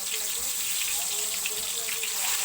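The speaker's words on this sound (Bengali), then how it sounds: "তো আমি বেগুনগুলো ঝটাপট ভেজে নিই, ছেড়ে দিচ্ছি, একটা করে ছেড়ে দিই।" Eggplant slices fry in hot oil with a dense, steady, close sizzle that hisses continuously throughout.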